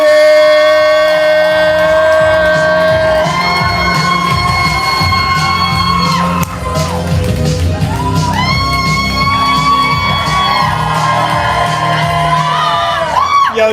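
A live poetry show crowd cheers, whoops and shouts for a poet, a loud, sustained roar of many voices with high yells rising over it throughout.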